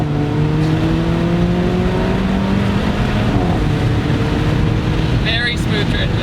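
An Alfa Romeo 4C drives at steady speed, its engine droning loud and close with a rising tone, then dropping through a gear shift before pulling again.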